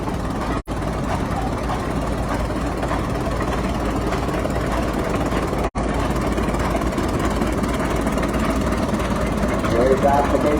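An antique Caterpillar gas tractor with brass carburetor, magneto and open flywheel runs steadily in an outdoor antique power show parade, a loud continuous engine drone throughout.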